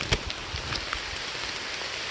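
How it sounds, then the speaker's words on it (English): Heavy rain pelting down on a hiking trail, a dense steady hiss of drops striking surfaces with a few sharper nearby splats, no voices. "It is pelting down rain all day, so that means it must be the day I get back on the trail."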